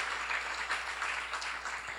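Steady clapping from a church seminar audience, a continuous moderate patter of hands with no voices over it.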